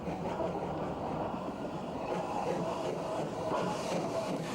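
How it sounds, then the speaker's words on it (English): A Midland 3F steam locomotive runs round its train at a junction, a steady broad rumble of rolling wheels and machinery holding at an even level throughout, with no voices. "The 3F is seen running round its train"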